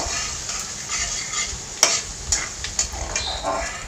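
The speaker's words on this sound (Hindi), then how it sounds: "प्याज को भी हल्का ही मैंने ब्राउन होने के लिए रखना है, तो यहाँ पर प्याज ब्राउन हो जाएगा।" Onions browning in a hot pan for shahi paneer, a steady close sizzle with occasional crackles and stirring scrapes, no talk.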